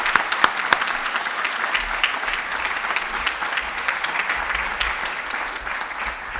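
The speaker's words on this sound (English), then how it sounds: "a round of applause for our frontline staff" A round of applause for frontline transit staff at a TransLink annual general meeting, the audience clapping steadily and densely throughout, a few sharper claps standing out near the start.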